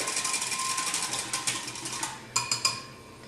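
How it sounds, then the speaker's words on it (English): Vegetable oil and apple cider vinegar whisked together in a bowl, a steady run of quick light metallic taps and scrapes at close range, ending in a few sharper clinks, with no voices. "I'm just going to take and whisk that together quickly."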